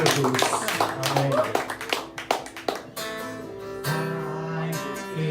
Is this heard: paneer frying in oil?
no